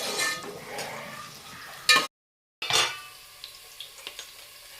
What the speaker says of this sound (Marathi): आता आपला कांदा परतत आलेला आहे.